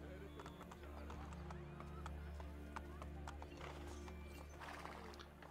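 Horse hooves galloping in Assassin's Creed Brotherhood, a faint run of quick clip-clops and a whinny over a steady game background hum.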